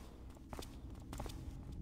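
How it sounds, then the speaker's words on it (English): Footsteps in a Thief fan mission, a soft, irregular series of steps in a quiet game level, faint and somewhat distant. "I hear a second set of footsteps."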